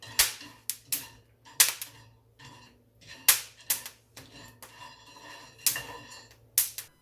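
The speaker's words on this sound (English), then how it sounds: "you'll hear the beans start to make cracking sounds" Coffee beans crack sharply while roasting at home, a run of about a dozen distinct snapping pops coming at irregular intervals over a steady low fan-like hum, close and fairly loud with no talking.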